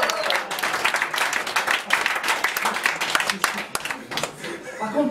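Audience at a club show applauding a magic and circus performer, brisk clapping rising and falling in bursts with some chuckles and a voice talking over it.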